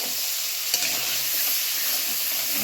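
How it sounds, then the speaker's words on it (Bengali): Ground spices with salt and chili powder fry in a little water in a pan for a katla fish curry, producing a bright, continuous hissing sizzle with a brief stirring knock and no talking. "মশলাটা কষিয়ে নিতে হবে আগে।"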